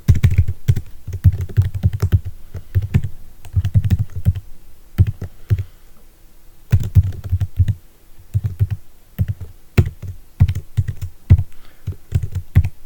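Steady typing on a computer keyboard, close and crisp, with bursts of rapid keystrokes broken by short pauses.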